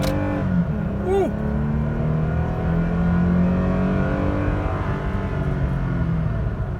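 A 2019 Toyota Tacoma TRD Sport V6 pickup accelerates hard from a stop, heard from inside the cab. The engine gives a loud, steady rising drone with smooth shifts, and a brief voice comes through early on.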